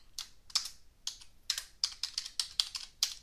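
Fingers type on a computer keyboard, a quick irregular run of about a dozen crisp, close key clicks with no talking.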